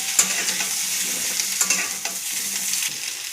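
Potatoes and vegetable stems fry in a pan with a continuous loud sizzle, broken by a few sharp stirring scrapes and clatters, with no talking.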